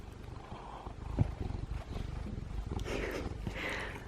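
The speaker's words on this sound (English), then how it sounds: "Some kitty purring ASMR, in case you're here for that." A pet cat purrs close to the ear with a low, rhythmic rumbling pulse, soft and steady, with a brief knock partway through.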